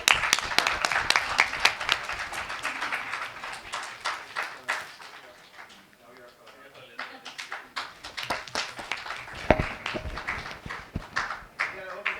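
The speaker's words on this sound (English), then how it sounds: "Let's put a huge round of applause for them" An audience at an educators' meet in a hotel ballroom applauds, dense clapping with scattered whoops that thins briefly in the middle before swelling again, with voices mixed in and a loud thump near the end.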